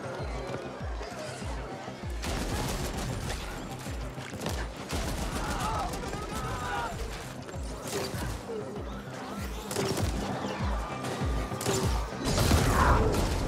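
Video game gunfire in dense, repeated bursts amid mechanical clatter and combat noise, steady and moderately loud throughout.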